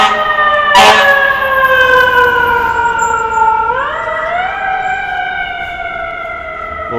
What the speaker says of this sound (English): We got a New York scene coming up here with the fire truck.